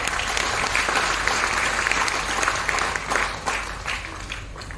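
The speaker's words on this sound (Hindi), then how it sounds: "एक बार मैं उनके सम्मान में तालियां चाहूंगा" Audience applause at a business seminar, a thick wash of clapping that holds steady for several seconds before tapering slightly at the end, with no voices on top.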